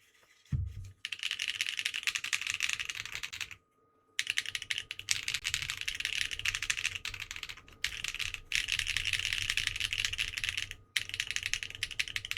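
Steady, brisk typing on a Schema mechanical keyboard by Bowl & Alexotos, a dense clatter of keystrokes broken by a few brief pauses, close and clear with no voices.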